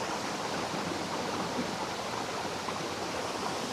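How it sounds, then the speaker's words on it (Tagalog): Bridal Falls, a roadside waterfall, pours in a steady broadband rush of flowing water, continuous and even, with no voices. "Grabe yung tubig nito, trippers, yung bridal na to."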